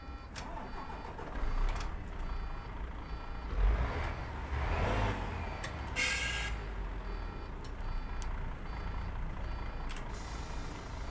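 A Temsa Safir II VIP coach engine cranks and catches, settling into a steady diesel rumble with a brief higher whine and a few beeps mixed in, heard up close with no talking.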